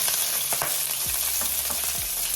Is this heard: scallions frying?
yes